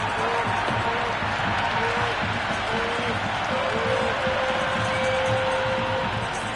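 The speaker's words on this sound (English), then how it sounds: "The crowd are really getting quite raucous." Crowd noise rolls through a packed cricket stadium during an IPL match between LSG and DC, a continuous roaring murmur with scattered shouts and whistles rising and falling under a steady din.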